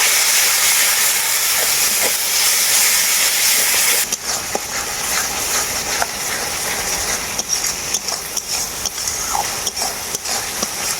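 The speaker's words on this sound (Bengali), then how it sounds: "খুব ভালো করে মশলাটাকে এরপর আমি কষিয়ে নেব" Ground spice paste of cumin, chilli, coriander and turmeric fries in a pan with a loud, steady sizzle and hiss, broken by frequent scrapes and clicks of stirring throughout.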